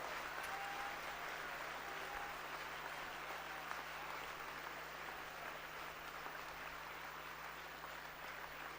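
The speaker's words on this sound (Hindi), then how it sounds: "जोर से ताली बजाइए," Dense, steady applause from a large audience at a spiritual gathering in Haridwar, sustained evenly and fairly far off, with no speech over it.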